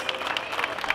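An audience applauds at a Rondallas Duranguenses concert during the Festival Revueltas 2024, a brief burst of dense, crackling clapping from a crowd, fairly close and steady, with some murmur of voices mixed in.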